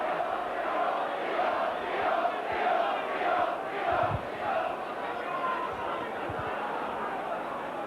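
Rugby league crowd at Leeds against Widnes in 1992 reacting to a Leeds handling error, a steady mass of groans, jeers and shouting voices filling the stadium, rising slightly midway with no single voice standing out.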